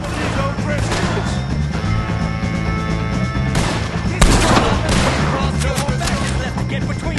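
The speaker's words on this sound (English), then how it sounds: "If you can hear me, shoot some of these O'Driscolls!" Loud, dense gunfire in a Red Dead Redemption 2 shootout against the O'Driscoll gang, with rapid overlapping shots and cracks over a constant wash of battle noise and a sharp, heavier blast midway.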